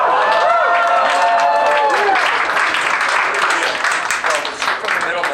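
A rap battle crowd applauds and cheers in a dense, sustained wash of clapping. Voices are heard over it at the start, and the noise fades slightly toward the end.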